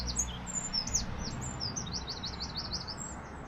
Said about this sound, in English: The birds on this little roundabout, superb.